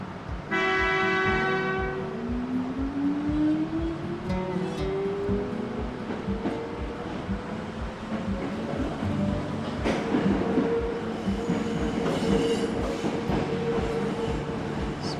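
A train rolls along double tracks into a mountain tunnel, its horn blaring loudly at first over rhythmic wheel clatter, then a rising whine and rumbling that persists steadily through the passage.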